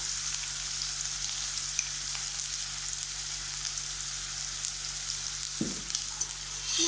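Small onions and cumin frying in oil in a pan, a steady broadband sizzle holding evenly throughout, with a brief scrape of stirring near the end and no voices.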